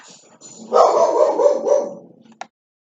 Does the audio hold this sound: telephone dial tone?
no